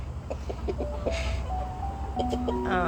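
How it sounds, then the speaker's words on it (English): A few clucks from a rooster nearby over steady low farm background noise near the chicken feeder, with brief voices in the mix. "That's the rooster."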